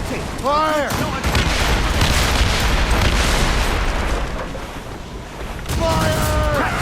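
Naval cannon fire in an Assassin's Creed Rogue sea battle: loud repeated booming broadside volleys over churning water and ship noise, with shouted voices amid the barrage.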